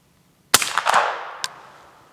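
Rossi LWC 300 Blackout rifle firing one Hornady Black subsonic round outdoors: a single sharp crack followed by a short rattling echo tail and a faint later reflection.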